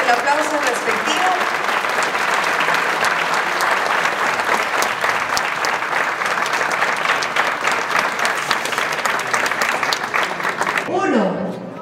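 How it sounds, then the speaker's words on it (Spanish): Audience applause at a graduation ceremony, loud, sustained clapping from a crowd filling the whole stretch, with voices mixed in and a brief whoop near the end. "Vamos a darles el aplauso respectivo."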